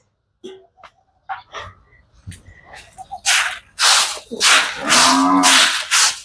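A cow in a cattle shed lets out several deep, drawn-out moos close by, following a few scattered knocks and shuffling sounds in a quiet space.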